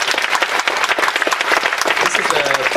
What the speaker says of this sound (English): This is the biggest clap I've ever heard.